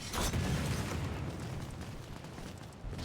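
A rocket explodes in the video game Lost Planet Extreme Condition, a loud deep boom at the start that rumbles and slowly fades over a few seconds, no voices.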